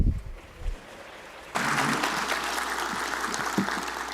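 Applause breaks out for Rio de Janeiro mayor Eduardo Paes at a G20 legal closing ceremony, starting abruptly after a quiet moment and holding as a steady, dense wash of clapping from a large audience.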